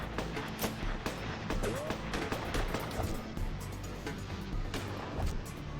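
Gunshots in the Gemini Rue video game, several sharp reports scattered over a dense, busy game soundscape, fairly quiet overall with no speech during the firing.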